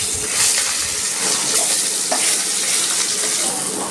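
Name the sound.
fish frying in hot mustard oil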